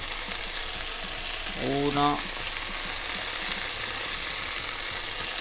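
Garlic frying in a pan while being stirred, a steady sizzle throughout, with a brief spoken word partway through.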